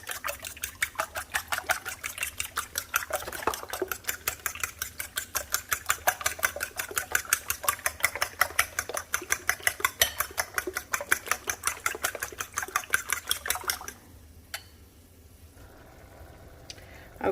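Eggs for breakfast tacos beaten in a bowl make a steady, quick clicking and tapping rhythm that runs for about fourteen seconds, clear and close, then stops, leaving only faint background noise.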